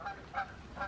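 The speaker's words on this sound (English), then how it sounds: "Geese are going up." Several geese honk in bursts while flying overhead, with three distinct clusters of calls about half a second apart over a steady outdoor background.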